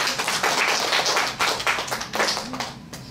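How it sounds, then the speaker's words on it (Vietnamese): An audience claps at a Buddhist talk, a brisk burst of many hands clapping in quick irregular rhythm, fairly close and filling the short moment alone. "Người vỗ tay."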